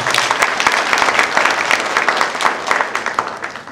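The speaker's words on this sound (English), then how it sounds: "Can you clap for her" Loud, close audience clapping at a university graduation ceremony in Kenya, a thick continuous patter of many hands lasting a few seconds with no talk over it.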